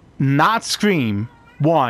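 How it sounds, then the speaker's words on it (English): A domestic cat meows in three distinct drawn-out calls under and between nearby talk during a snowy-area video game session. "Don't worry about the meows in the background. That's just my cat."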